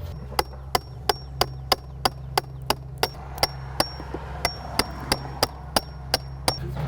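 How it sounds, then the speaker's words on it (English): A chisel is struck repeatedly to chip off old, sun-damaged exterior wood window trim, producing sharp evenly spaced knocks, about three per second, loud and close over a low steady hum. "I'm just gonna get a chisel and chisel that off even with this right here."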